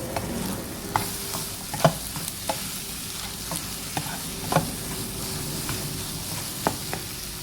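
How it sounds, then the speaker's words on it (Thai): Carrots being stir-fried in a pan: a soft continuous sizzle with intermittent scraping clacks of a spatula, close by. "ใส่แครอทลงไปผัดก่อน"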